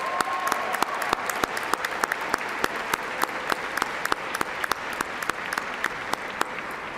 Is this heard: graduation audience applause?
yes